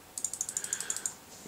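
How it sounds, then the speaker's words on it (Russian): Crisp, loud button clicks from a SteelSeries Sensei computer mouse, about a dozen in a quick, fairly even series, close up with no rattle and no talking. "У сенсея нету практически дребезжания. Клик четкий, громкий."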